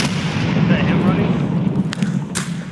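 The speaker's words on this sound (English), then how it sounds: "I threw a grenade at him." Heavy rumbling explosion from a grenade in a multiplayer shooter game, a loud low boom that rolls through the mix while a player talks over it and a few sharper gunshot-like cracks follow near the end.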